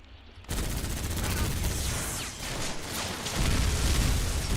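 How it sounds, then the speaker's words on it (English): Dense, continuous gunfire and rumbling explosions from the video game Bodycount fill the mix, swelling louder toward the end with no voices over them. "I love the explosions."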